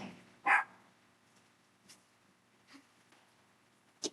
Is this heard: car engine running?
no